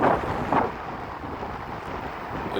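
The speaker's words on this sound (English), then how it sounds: "About this helmet, it handles wind pretty well." Wind buffeting a helmet while riding a Segway GT2 electric scooter, a steady low rumble with a couple of stronger gusts, loud and close.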